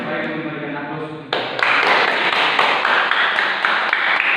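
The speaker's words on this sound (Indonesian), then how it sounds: "Baik memberikan aplaus." A classroom of students claps together after a short spoken request, a dense burst of applause that starts suddenly and carries on steadily for a few seconds.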